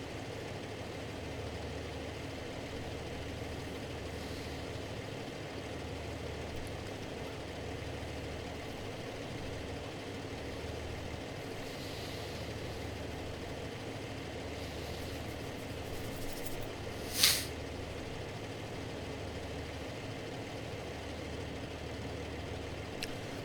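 A tractor engine idles and rumbles steadily in the video game Farming Simulator 15 while backing up, a continuous low drone with no pauses and one brief sharp click partway through.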